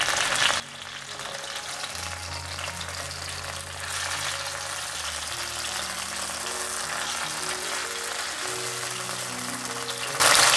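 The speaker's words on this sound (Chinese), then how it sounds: "继续让它煎" Fish fillets sizzle and pan-fry in hot oil, a steady crackling hiss held at moderate level from close range, with faint kitchen clatter at the start and end and no talking.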